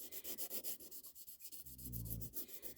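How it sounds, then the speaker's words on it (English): Steady rhythmic rasping of sandpaper rubbed back and forth over hardened Milliput putty on a ceramic repair, close up, in quick even strokes with no voices. "you can just keep sanding that along."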